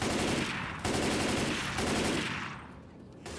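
Rapid automatic gunfire rattles continuously in Left 4 Dead 2 on the Crash Course campaign, loud and close, with brief pauses between long bursts and no voices.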